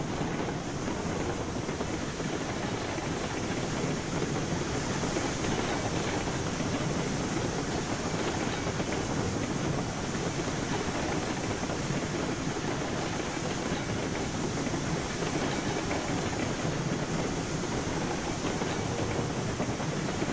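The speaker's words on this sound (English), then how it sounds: "Runaway train." A runaway train rolls downhill in the video game Railroads Online, a steady dense rumble and rail roar with no pauses and no speech.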